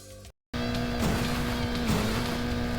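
Racing cars in a Sega Saturn racing game drone steadily after a brief dropout, the engines holding a constant pitch with faint tire squeal and swooshing passes, fairly quiet and without speech.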